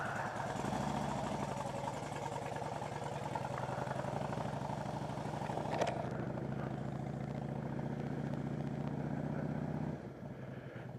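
Motorcycle engine running steadily as the bike is ridden along a familiar route, a continuous close drone with a brief clack near the middle before the engine note drops off at the end.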